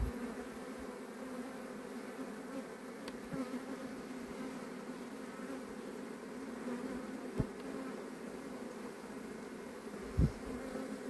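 Honeybees buzz in a constant swarm hum, with a few faint knocks and clicks breaking through the steady drone.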